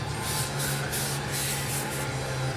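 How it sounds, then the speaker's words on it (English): A Scotch-Brite pad twisted around a greasy impact socket makes a steady, close, abrasive scrubbing hiss with rhythmic surges as it turns, over a low hum. "we're just gonna wrap that socket and do a kind of a twisting motion around it and clean that socket up"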